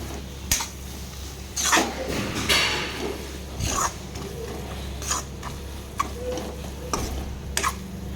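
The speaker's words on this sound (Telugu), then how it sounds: "మనం ఇప్పుడు టొమాటోస్ కూడా మెత్తగా అయ్యేదాకా ఫ్రై చేద్దాము" Tomatoes cook with masala in oil for an egg curry, giving a soft, steady sizzle with intermittent sharp taps and scrapes of a spoon stirring the pan.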